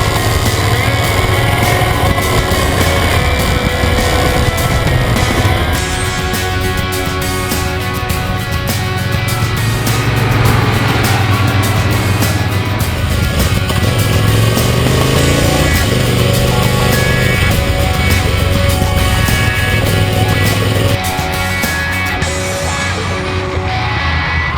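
A 2011 Triumph Thunderbird Storm motorcycle engine drones steadily and loudly for the whole stretch while being ridden, the pitch rising and falling with the throttle, backed by music and no talk.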